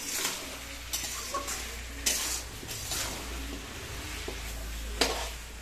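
Vegetables including potatoes, sweet potatoes and peas fry in a pan, with a soft sizzle under repeated scraping and clinking stirring strokes against the metal, over a low hum.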